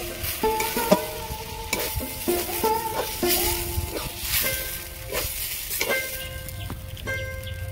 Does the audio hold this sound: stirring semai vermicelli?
yes